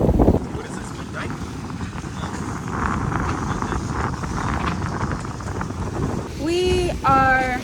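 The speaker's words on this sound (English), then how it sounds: "We are sailing. We got both sails up." A sailboat runs under both sails in steady wind, with a constant broad rush of wind and water over the microphone and brief tonal squeaks and voices near the end.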